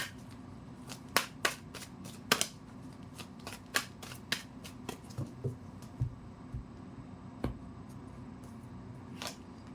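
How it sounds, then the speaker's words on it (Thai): A deck of oracle cards is shuffled by hand in a quiet room, with a string of crisp, irregular snaps and riffles close to the listener. "เดี๋ยวเรามาเปิดไพ่โรเคิลกันต่อเลยค่ะ"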